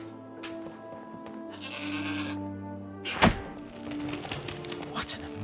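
A goat bleats in the video game Trine 4, with wavering cries over soft game music and a sharp thunk partway through, no talking.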